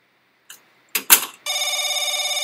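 In The Crooked Man video game, a few sharp clicks and thuds give way to a telephone bell ringing, a bright, loud, rapidly trilling ring that continues steadily.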